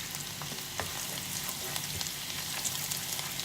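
Garlic sizzles and crackles steadily in hot oil in a pan, a continuous close frying hiss with small pops and occasional stirring scrapes, no voices.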